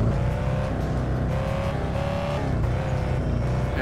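A car engine in Thief Simulator VR revs and drones steadily at moderate volume, pitch rising and shifting with acceleration, no voices over it.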